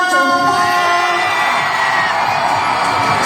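A youth camp crowd shouts and cheers together in response, a loud, sustained burst of mixed whoops and yells filling the space at close range.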